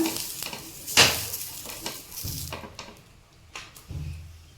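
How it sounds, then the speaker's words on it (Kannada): Onion dipped in oil scraped and rubbed across a hot dosa tawa for a millet dosa, giving a few soft scraping strokes with a faint sizzle and light metallic clinks, close and fairly quiet. "ಈರುಳ್ಳಿಯನ್ನು ತೊಗೊಂಡ್ಬಿಟ್ಟು ಎಣ್ಣೆನ ಹಚ್ಕೊತಾ ಇದ್ದೀನಿ"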